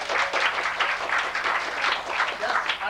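Audience members at a class reunion applaud, a dense, even wash of many hands clapping at moderate distance throughout.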